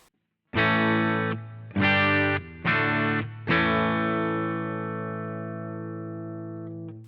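Clean electric guitar chords through a Boss GT-1 ring out: three short strummed hits, then a final chord left to sustain and slowly fade.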